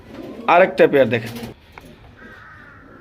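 Pigeons in a bird seller's collection, including German Modena birds, give soft cooing calls, partly under a man's nearby speech, followed by quieter coos and a faint sustained tone.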